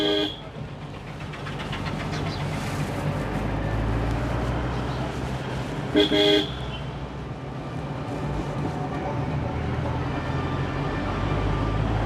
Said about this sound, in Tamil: நம்ம முதல்ல செய்ய வேண்டியதே ஹார்ன் அடிச்சுக்கிட்டே தான் போகணும்